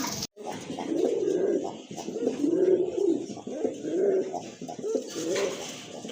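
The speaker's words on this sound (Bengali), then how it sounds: "আরেক জোড়া কবুতর শার্টিন কবুতর খুবই সুন্দর" A pair of Satin pigeons coo in repeated low, rolling phrases, close and steady, each call swelling and fading with brief gaps between them.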